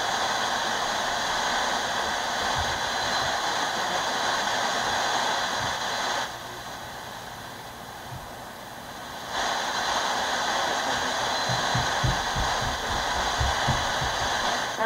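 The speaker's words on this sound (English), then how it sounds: "you should be able to hear the station kind of come in on this radio." FM radio tuned to a station broadcast from a Ramsey FM-10 Part 15 low-power FM transmitter, a steady wash of hiss and static that briefly drops and thins partway through before returning, with no clear speech emerging.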